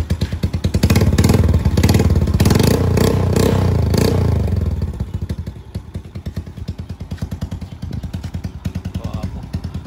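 A Suzuki Smash motorcycle fitted with a Tsukigi power pipe exhaust revs loudly and close, its engine climbing for a few seconds then settling into a rapid, steady popping idle.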